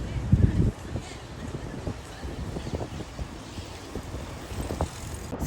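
Gusty wind buffets the microphone outdoors with low rumbling thumps, strongest at the start, and faint voices are barely audible underneath.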